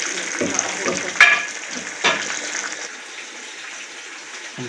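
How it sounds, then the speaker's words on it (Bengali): Fish frying in a pan for a fish curry, a steady crackling sizzle with occasional sharp pops and clatters of utensils, close and moderately loud. "মাছ ভাজা চলছে"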